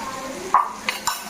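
Food frying in a flat pan of hot oil, a steady soft sizzle with a few brief stirring clinks and scrapes close by, no talking.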